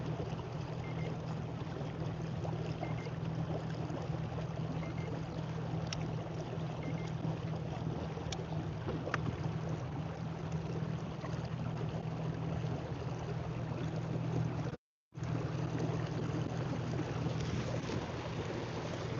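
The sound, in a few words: NK300 electric motor running on a boat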